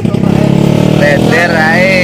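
A motorcycle engine runs at a steady, close, loud idle before a ride to a waterfall, while a person talks over it.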